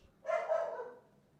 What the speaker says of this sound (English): Who is barking? Obviously a puppy.